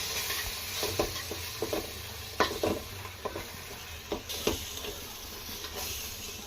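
Ground tomato is stirred into sizzling chicken curry in a pan, giving a steady frying hiss broken by a series of scraping, sloshing spoon strokes at close range.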